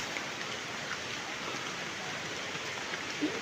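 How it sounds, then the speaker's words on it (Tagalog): Steady rain falls, a constant even patter of drops on surfaces, moderately soft and unbroken, with no voices. "Umuulan."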